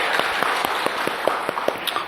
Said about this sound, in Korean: 영광의 박수를 주님께 돌립시다.